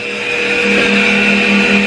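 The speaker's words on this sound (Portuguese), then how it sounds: "Motorzinho tá passando o cabeçote na banca" A small motor runs on a workbench, driving a cylinder head in a shop, with a loud steady whirring hum and a rising tonal whine, continuous and close.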